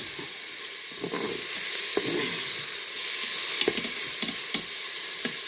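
Garlic frying in olive oil in a pan, a steady close sizzle with small crackles and pops spread across about five seconds, no talking.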